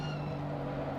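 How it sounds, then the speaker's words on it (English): Steady engine drone with a constant low hum and higher whine, like racing cars idling or cruising in a racing game at Oulton Park, continuous and fairly quiet. "Cars sound good. Car sound could go up a bit."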